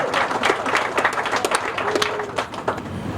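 An outdoor crowd at a groundbreaking ceremony in West Palm Beach's Historic Northwest applauds, steady scattered clapping from many hands at moderate distance, with no speech over it.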